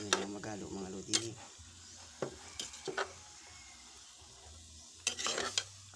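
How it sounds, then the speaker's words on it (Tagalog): Meat being stirred in a hot pan: intermittent scraping clinks of a utensil against the metal over a low, quiet sizzle, with a few louder knocks spaced apart. "pagka medyo uminit na yung kawali, ating haluin na yan"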